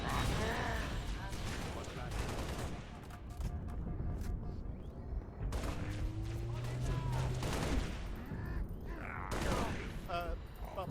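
Gunfire rattles through a Halo Reach match, with dense bursts of automatic shots and booms layered with game effects, while someone talks over the action.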